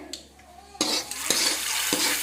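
Mustard seeds and curry leaves crackle and hiss in hot oil for a tempering for a Palakkad-style mango dish, with three sharp utensil knocks against the pan over the sizzle, close up.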